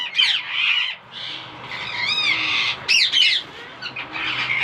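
An Indian ringneck parrot squawks loudly while being caught by hand, giving repeated harsh, rising calls and screeches in quick succession, close by, with no speech.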